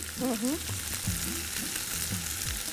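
Potatoes sautéing in a hot pan, a steady sizzle and crackle running throughout, with a voice speaking faintly over it in places.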